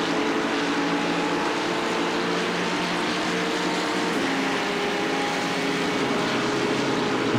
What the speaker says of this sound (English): you can just hear the roar of those engines right behind us